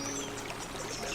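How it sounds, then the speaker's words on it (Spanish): Soft, continuous flow of river water in a quiet natural setting, a gentle pouring and trickling wash heard up close and alone, with no voices. "solo escuchas el agradable sonido del agua."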